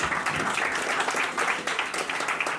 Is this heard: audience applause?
yes